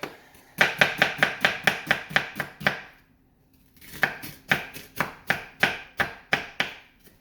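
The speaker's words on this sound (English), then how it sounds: "So get all your onions minced up" Onions being minced with a knife on a cutting board for meatloaf: two runs of fast, even chopping strokes, about a dozen each, close and crisp, separated by a short pause, with no talking.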